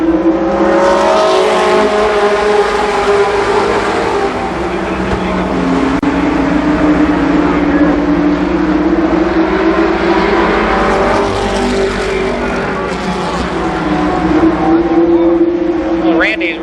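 Race cars roar around the Columbus Motor Speedway oval at a 1993 event, engines loud and close with rising and falling pitch as they pass, with a commentator talking over the racing.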